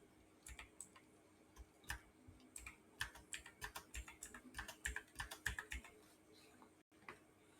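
Quiet, close keystrokes on a computer keyboard enter a fourteen-digit enrolment number into an Aadhaar update status form, with irregular clusters of clicks that speed up in the middle and then stop.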